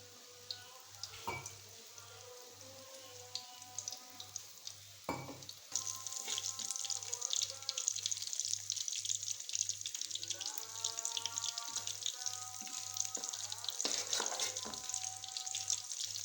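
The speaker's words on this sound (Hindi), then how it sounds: "अब हम इसमें ये पकोड़े डालेंगे।" Pakoras deep-fry in hot oil, a dense bubbling sizzle that grows louder once the batter goes in and then churns steadily, heard close, with a faint regular hum underneath and no talking.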